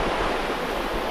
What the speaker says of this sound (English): There's some waves. Big rollers.